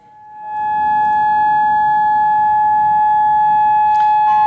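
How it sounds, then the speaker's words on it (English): A loud, ear-piercing civil defense all-clear siren in Israel, during the Israel–Iran conflict, rises and then holds one steady, unwavering tone, sounding alone. "Malin, in the background, you can hear that ear-piercing siren, and it is the all clear here in Amman"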